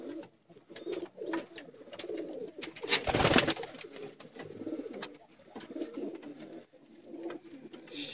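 Sialkoti pigeons coo in a steady, overlapping murmur throughout, with a brief loud rustle of wings or handling in the middle and a few higher chirps.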